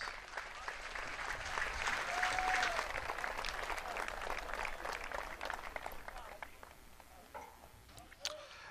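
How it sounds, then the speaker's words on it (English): Applause from a crowd at a 2023 Division II softball championship ceremony, sustained clapping over the whole stretch with some voices mixed in, fading slightly toward the end. "Let's give all these outstanding student athletes, coaches, and staff a round of applause."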